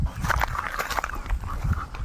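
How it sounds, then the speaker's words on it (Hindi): A loyal pet dog brought outside at evening, close and moderately loud, making snuffling and short vocal sounds with some shuffling movement around it. "काफ़ी वफादार ये कुत्ता है"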